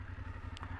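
A BMW F750 GS motorcycle's 853 cc engine runs steadily at idle, a low, even throb with a brief clatter partway through, close by with no talk.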